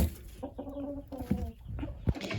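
A hen clucks inside a chicken coop, a run of short nasal clucks and murmurs at close range with light scratching, no talk.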